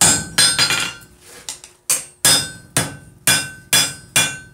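A hammer strikes metal petals flat on an anvil, ringing blows loud and close, about a dozen hits in a steady rhythm after a faster cluster at the start.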